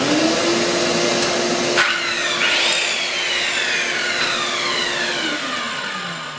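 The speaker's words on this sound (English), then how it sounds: "So we're going to run through and see if this saw will start up while each of these other loads is running." Power saw spinning up and running on a cheap eBay inverter while other loads run, a loud close whine with a steady tone and a brief pitch sweep, winding down at the end.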